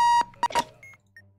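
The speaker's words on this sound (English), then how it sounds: "that alarm clock was really loud" An alarm clock beeps loudly and close. A long electronic tone is followed by a few shorter bleeps and faint trailing chirps in a brief, abrupt burst.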